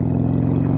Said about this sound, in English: This bike has a stock exhaust on it.